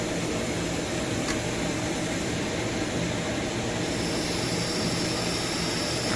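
A Kaeser SX7.5 air compressor runs after a restart, giving a steady, loud broadband mechanical whir and hum that holds constant throughout, with no voices.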